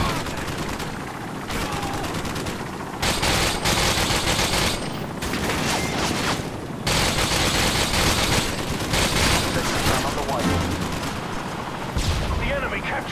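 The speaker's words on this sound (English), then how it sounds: "the 240 Bravo, even fired from the hip, can still get somebody." 240 Bravo machine gun fire in a first-person shooter video game, dense sustained bursts of rapid automatic shots with short gaps, loud and continuous, mixed with other game noise and voices.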